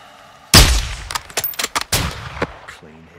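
Loud sniper rifle shots in Call of Duty Modern Warfare 2 gameplay, one heavy blast followed by a rapid string of sharp reports and a trailing echo, close and dominant.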